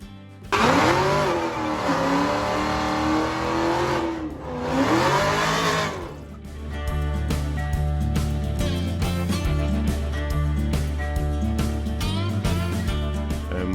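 A high-performance drag racing car engine revs loudly in two rising-and-falling surges, then settles into a pulsing, steady roar for the remaining several seconds.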